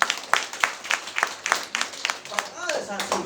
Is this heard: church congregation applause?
yes